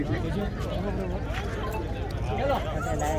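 At a horse show competition at the Ranakpur Jawai Bandh festival, Marwari horses' hooves clip-clop steadily, nearby and fairly loud, over a constant crowd murmur and a voice speaking through a public address system.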